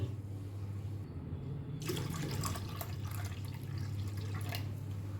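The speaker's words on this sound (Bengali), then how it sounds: "এবার এর মধ্যে দিয়ে দেব প্রায় দু কাপের একটু বেশি জল" Water is poured into a kadhi batter mixture, a steady splashing pour that rises in intensity after a quiet start, accompanied by a constant low hum.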